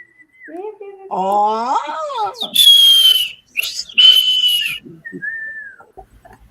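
An audience whistles in imitation of birdsong, rising sliding tones and long bright trills in a few loud bursts, after a voice speaks briefly over a lower whistle at the start.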